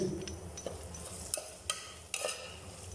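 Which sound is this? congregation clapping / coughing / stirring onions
stirring onions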